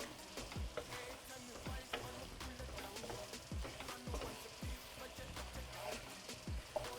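A utensil stirs pasta into a creamy chicken sauce in a frying pan, with repeated scraping strokes in a steady rhythm over a soft sizzle, close and moderately quiet.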